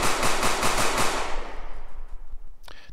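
Pistol fire in a video game animation test for a bank heist game: a quick rapid burst of close, loud shots for about a second, then a decaying tail with a brief mechanical click near the end.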